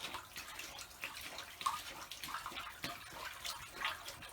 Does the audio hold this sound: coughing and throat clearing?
no